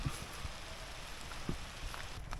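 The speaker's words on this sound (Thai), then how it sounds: "ตกแล้วครับ ฝนมาแล้วดีนะที่มีใต้สะพาน ไว้หลบฝนครับ" Steady rain pattering down as heard from shelter beneath a bridge during a storm at a fishing spot, a dense even hiss with a few soft drips, moderately loud and continuous with no voices.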